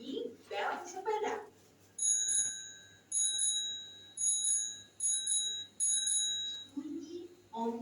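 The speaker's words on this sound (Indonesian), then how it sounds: "Bunyi bel sepeda." A bicycle bell rings in a quick series of bright dings, repeated several times in short clusters, with a voice speaking briefly before and after.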